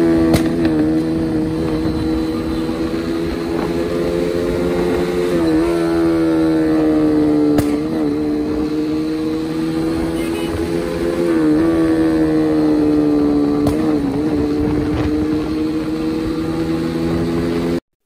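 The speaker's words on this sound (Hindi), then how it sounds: "बाइक के बैक फायर निकाल के" A motorcycle engine revs repeatedly in steady rising and falling sweeps, with sharp brief cracks of backfire between the revs and no talking.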